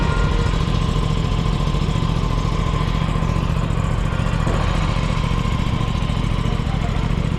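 A cold motorcycle engine, from an Aprilia RS 457 or TVS Apache RTX, idles steadily and close by with a constant low rumble that stays even throughout, and no one speaks over it.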